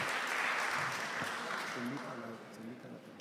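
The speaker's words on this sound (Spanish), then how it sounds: "Fuertes aplausos para todos ellos, por favor" Audience applause at a Peruvian congressional ceremony, a moderate, fairly distant wash of clapping that fades slightly toward the end, with a voice briefly audible beneath it.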